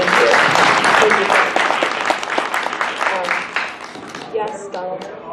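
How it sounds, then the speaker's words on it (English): An outdoor crowd at a Bronx River Earth Day celebration breaks into applause, a dense burst of clapping that thins and fades over several seconds while a voice speaks over it. "that deserves a big round of applause"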